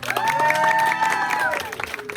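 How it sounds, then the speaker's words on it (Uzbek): An audience clapping at a family celebration, a brief burst of applause with a sustained, voice-like tone riding over it before it thins out. "Qarsaklar bo'lsa, qarsaklar."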